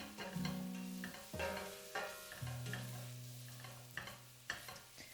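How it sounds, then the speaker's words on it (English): A flour roux stirred with sautéed bok choy stems and fennel in a pan, heard as soft scraping strokes and light clatter at an irregular pace over a faint sizzle, close and quiet. "Add flour to make a roux and stir until the flour disappears."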